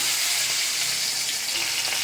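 Tomato lands in hot oil tempered with five-spice, giving a dense, loud, close sizzle that holds steady from start to finish.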